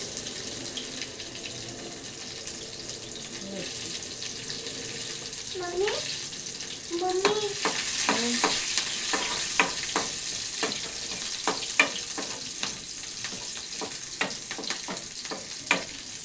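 Mustard seeds and spices frying in hot oil in a kadhai, a steady sizzle with a rapid series of sharp crackles and pops, while a voice speaks faintly in the background.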